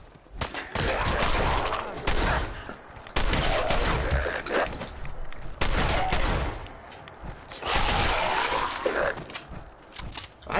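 Gunfire in the video game Fallout 4 comes in loud repeated bursts, four sustained volleys of rapid shots separated by short pauses, close and dense.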